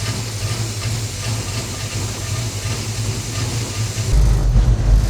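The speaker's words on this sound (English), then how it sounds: "Now I can let it run and let all the oil and everything burn off the exhaust" An engine idles steadily while residual oil burns off the exhaust, producing a loud, continuous broadband hiss and rumble up close, with a deeper low surge toward the end.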